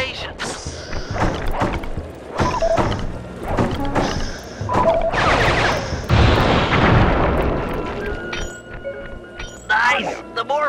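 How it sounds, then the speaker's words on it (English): Fireworks blast in the Sly 3 video game as a series of heavy booms and crackling bursts, repeated in quick succession, mixed with in-game voices and effects. "The more fireworks you prime, the more damage they'll do!"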